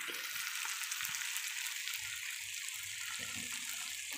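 Water poured into a pan of ground meat sautéing for a simple macaroni pasta, a bright continuous sizzling hiss with soft bubbling and pan knocks underneath, close and steady, no talking.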